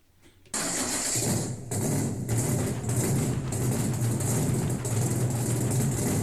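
A classic car's engine fires up after a short crank and settles into a loud, steady running rumble nearby at an outdoor car show, with no voices.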